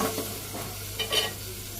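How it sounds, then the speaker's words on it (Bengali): Fish fries in a hot pan, a close crackling sizzle with a few stirring scrapes over a short stretch. "যে মাছটা ভাজি করা গেছে আমি নামিয়ে নিই।"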